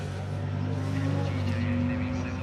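Rally car at the Donington Rally 2023 with its engine running close by, a steady, buzzy multi-tone drone that swells slightly over a couple of seconds.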